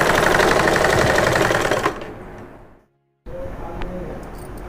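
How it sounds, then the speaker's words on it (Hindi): A sewing machine stitches a baby frock in a fast, steady mechanical whir that slows and stops, a brief silence, then quieter handling sounds follow. "ऐसे करके मैं पूरी सिलाई कर दूँगी,"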